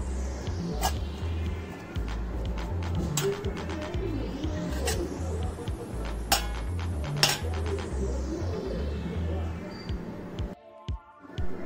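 A metal spoon stirs dry homemade onion-garlic masala, giving repeated scraping clinks against the container over a low hum and faint background voices.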